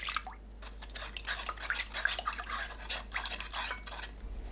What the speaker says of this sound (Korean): 팬에 진간장 4큰술, 멸치액젓 1큰술, 미림 2큰술, 다진 마늘 1큰술, 조청 1큰술, 물 400ml 넣고 섞어주세요.